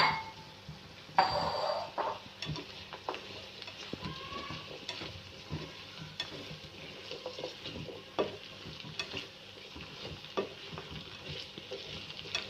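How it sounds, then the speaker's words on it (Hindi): Okra (bhindi) frying with onions in a pan, a steady close sizzle broken by repeated spatula scrapes and stirring knocks, with a louder burst near the start, no speech. "अब भिंडी को फ्राई करेंगे।"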